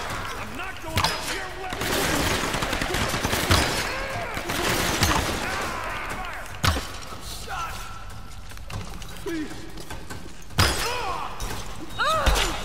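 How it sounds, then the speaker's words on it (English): Enemy gunfire in the Tomb Raider video game: several sharp shots and impacts scattered through a busy, loud game mix, with people talking over it. "She's shooting at us!"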